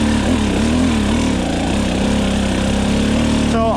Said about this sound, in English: Just let my bike lug up this thing. You can tell how low my RPMs are.